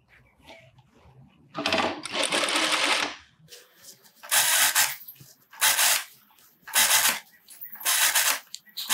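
A sewing machine stitches a blouse seam in several separate loud, rapid whirring runs, each lasting about a second or more, with quiet pauses between bursts.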